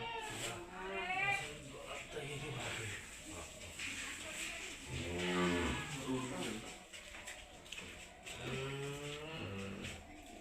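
A cow lows during a calf delivery on a dairy farm. Its drawn-out moans rise a few times over about ten seconds while people talk nearby.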